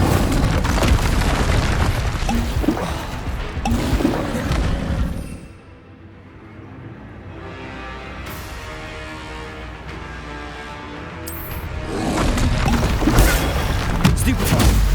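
Incendio fire spells explode in the Hogwarts Legacy video game. Loud, booming fiery blasts crackle at the start, drop to a quieter hum in the middle, then return as another roaring burst near the end.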